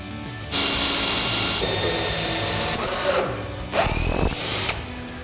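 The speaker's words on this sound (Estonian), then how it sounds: "Õigem on puurida siit auk läbi" A power drill whirs loudly in sustained bursts, its pitch straining and shifting as it bores a hole through hard ash wood for a table leg, with brief pauses between.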